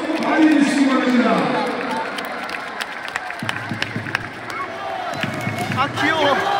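Stadium crowd at a K League football match between Jeonbuk Hyundai and Suwon FC applauding, with the steady clapping and crowd noise filling the whole clip, rising and falling, while voices talk over it.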